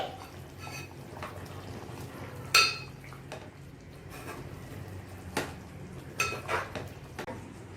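A spoon scrapes and clinks against a pot as chicken biryani masala is stirred, with soft wet mixing and a few sharper metallic knocks at intervals, close and fairly quiet.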